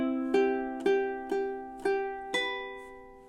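Close ukulele playing a chord progression in steady rhythm: five evenly spaced strums, each ringing and decaying before the next, clean and alone.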